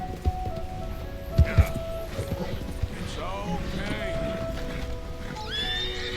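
A horse whinnies several times while being tamed in Red Dead Redemption 2, with snorts and a few hoof thuds under steady background noise and a voice talking.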